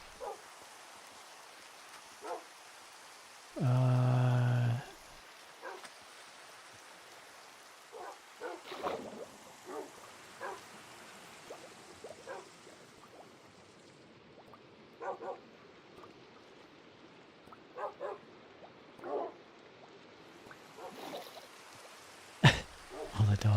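Dogs bark in the video game Minecraft, with short, scattered yips spread across the stretch over a faint background wash, plus one loud burst early on.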